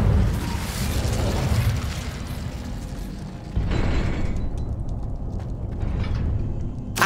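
Fire spell blasts in Hogwarts Legacy: loud whooshing, crackling bursts with a deep rumbling boom, one surge followed by a second after a brief dip, all heard alone.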